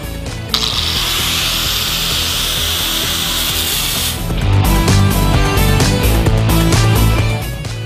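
Excess metal is trimmed off the sides of a Harley bagger frame neck with a power tool, giving a loud steady cutting and grinding noise that changes pitch partway through as the cut proceeds, close and without talk.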